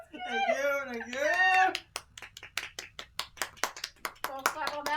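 An audience claps at a live show, a burst of quick, sharp handclaps that follows a person's speech and fades into scattered claps, with voices heard at the start and end.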